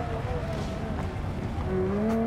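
Tyres skid and squeal under very late braking in a racing video game, a rising tonal squeal near the end over steady engine drone, with talk over the top.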